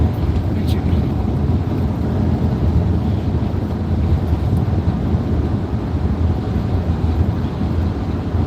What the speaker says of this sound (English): it's pretty windy, but not compared to the other day